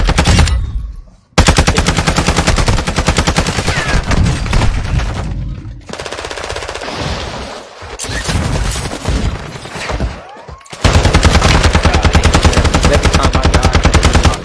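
Loud, rapid automatic gunfire from a video game shooter, near and sustained in dense bursts with a couple of short pauses between volleys.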